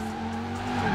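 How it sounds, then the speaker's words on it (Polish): A Quadra car drifts in Forza Horizon 4, its engine droning steadily while the tires squeal through the slide, growing slightly louder toward the end. "I da się driftować, tylko widzicie, że te drifty są takie szalone, jasne, to jest drift, nie?"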